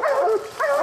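A hunting dog bays and barks in a frothing frenzy at a bear it has treed in Camden County, North Carolina; two loud, close, drawn-out yelping barks with a brief dip between them.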